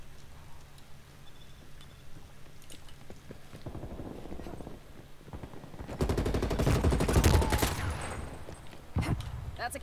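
Bursts of AK-47 fire in Black Ops Cold War, starting faint and sparse, then swelling into a loud rapid stream of shots toward the end, with a final short burst.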